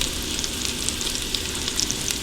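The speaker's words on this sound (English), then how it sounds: "I'm gonna render this bacon down." Bacon renders down in a pan for Texas chili, a loud, dense, steady sizzle with crackling pops throughout and no talking.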